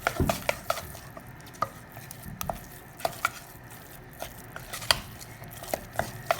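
Choux pastry mixture stirred by hand in a pan, with irregular clicks and knocks of the utensil against the pan over a soft background sizzle.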